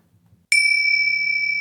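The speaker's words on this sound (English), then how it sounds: "ding the old bell" A single clear notification bell strikes once after a brief quiet spell, then rings on as a bright, steady tone that fades only slightly.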